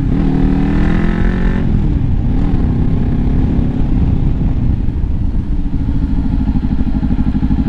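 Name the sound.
motorcycle riding fast then emergency braking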